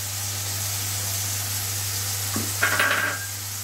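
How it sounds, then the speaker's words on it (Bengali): Ginger paste hits a pan for a vegetarian potato dish, giving a soft sizzle over a steady electrical hum, followed by a short burst of scraping stirring near the end, close and fairly quiet. "তা আদার পেস্ট দিয়ে দিলাম"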